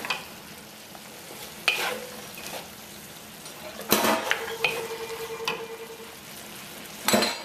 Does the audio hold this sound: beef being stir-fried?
yes